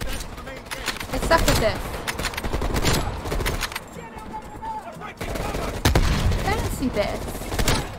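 Gunfire in Call of Duty: Black Ops Cold War cracks in repeated volleys and scattered shots, loud and close, while someone talks over it.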